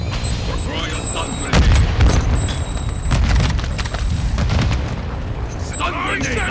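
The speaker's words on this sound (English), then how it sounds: "Stun grenade out." A stun grenade goes off in a tactical shooter video game: a deep bang rises out of a constant din of gunfire, rumble and radio-style voices, with more scattered shots and clatter after it.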